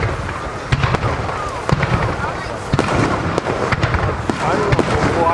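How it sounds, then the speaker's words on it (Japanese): Starmine fireworks display at Nagashima Onsen: a rapid barrage of sharp bursts and crackling pops, loud and continuous, with a crowd talking underneath. "ご覧いただいた後はスターマインに点火されます。"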